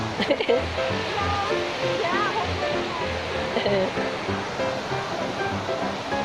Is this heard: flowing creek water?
yes